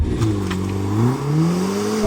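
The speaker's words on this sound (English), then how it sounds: "now I'm going to launch the little Mercedes AMG A45s" Mercedes-AMG A45 S pulling away under launch control, its engine note rising steadily and loudly through the revs, heard close with no talking.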